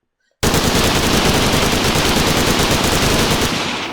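Rapid automatic gunfire in the game Redwave 2, a loud, dense unbroken stream of shots that starts abruptly after a short silence and runs to the end.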